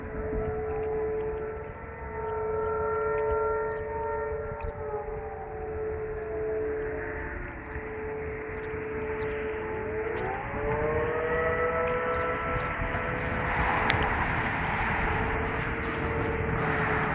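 Outdoor tornado siren in Bethany, Oklahoma, at NW 28th St and Rockwell Ave, wailing loudly and steadily with rising and falling pitch sweeps, its tone dipping and climbing again midway through.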